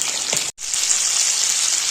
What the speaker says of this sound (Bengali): চিকেনটা তো ভালো মতো ভাজা হচ্ছে